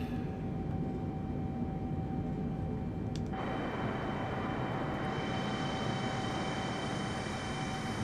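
A jet airliner's engines roar steadily in a flight simulator during the climb after takeoff from Nice. The broad drone holds loud and constant and grows brighter partway through.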